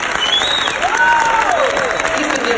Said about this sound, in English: I'd like to give a big round of applause to